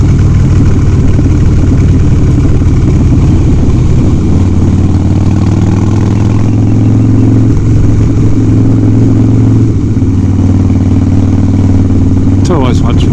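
Motorcycle engine droning steadily while riding a twisty coastal road, a continuous low hum that shifts pitch slightly as the bike changes speed, with wind noise and talk over it throughout.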